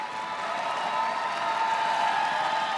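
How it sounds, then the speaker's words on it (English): A large crowd at an esports grand final applauds and cheers steadily for the winning team Mammoth, a dense, sustained wash of clapping at moderate distance. "A massive round of applause"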